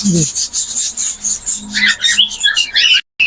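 A pair of active albino cockatiels gives close, scratchy chirps and rustling flutters over a few seconds.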